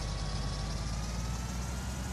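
A combine harvester's engine idling in Farming Simulator 19, a steady low rumbling drone with fan whir, close and unbroken.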